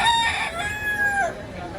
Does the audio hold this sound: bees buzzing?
no